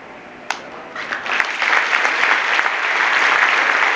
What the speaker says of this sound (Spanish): le damos un aplauso fuerte, fuerte y entusiasta